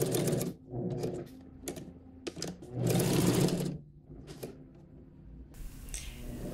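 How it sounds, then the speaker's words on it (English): An overlocker serges the top edge of a peasant blouse in several bursts, fast stitching runs separated by short pauses, close and fairly loud with no talking. "Overlock the top."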